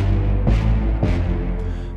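Distorted, aggressive orchestral short hits from the damage section of Heavyocity Symphonic Destruction, with loud low-heavy staccato attacks at about half-second intervals over a dense sustained layer.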